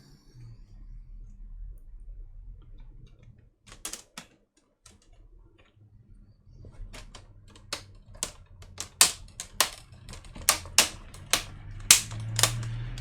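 Plastic bezel clips on an HP 15-bw laptop snap into place one by one. After a pair of early clicks, a quick series of sharp, loud snaps follows in an irregular rhythm, close up.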